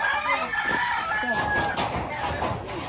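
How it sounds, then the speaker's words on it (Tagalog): Several chickens clucking nearby, with a rooster's crow rising over the clucks and a busy farmyard background. "May manok doon."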